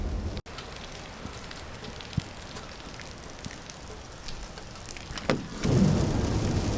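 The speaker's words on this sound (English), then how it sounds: "It has not stopped raining, guys." Steady rain patters continuously at moderate volume, a constant wash of noise with a few louder drips and knocks.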